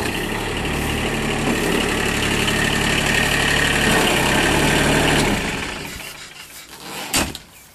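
A 21 hp diesel engine on a 2007 Kubota RTV900 utility vehicle idles with a steady knocking rumble, then shuts off and fades, leaving a quieter space with a brief clunk near the end.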